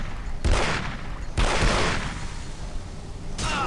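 Gunfire in the video game Aliens vs Predator 2 during a marine mission: three sharp bursts of rapid shots, fairly loud and close, separated by brief gaps.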